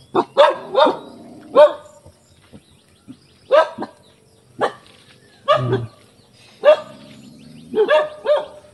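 A dog barks in short, loud bursts, single and doubled, at irregular intervals with quiet gaps between, close by outdoors.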